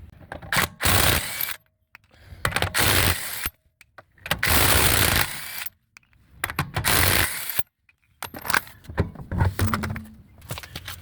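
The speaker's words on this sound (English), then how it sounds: "once those lugs are loose, you want to raise the vehicle up then and finish getting them off like this" Lug nuts being spun off a Nissan Altima wheel with a power tool: repeated loud, rattling bursts of a few seconds each, separated by short pauses, close up.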